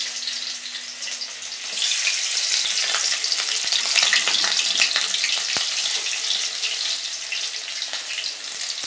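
Chillies and potatoes frying in hot oil, a steady loud sizzling crackle that swells after a quieter start and carries on with faint clinks, no talking.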